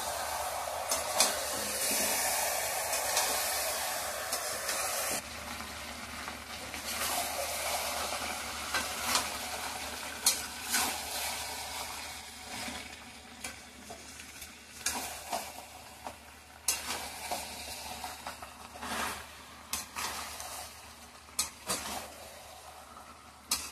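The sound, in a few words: meat being sautéed and stirred in a pan for chicken curry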